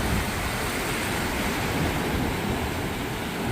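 Ocean surf rolls onto a beach in a steady, dense wash of noise with some wind, continuous and close throughout.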